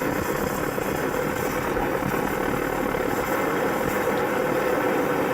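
An old pressurized camping stove heats up while priming, giving off a steady, loud, close roar with a slight flutter that holds constant throughout.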